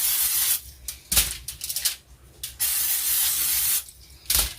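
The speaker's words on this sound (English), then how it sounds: "spray the top buns with a little bit of butter spray." Several close, loud bursts of butter spray on sandwich buns, a few seconds each, separated by short pauses and light rustling, with no speech.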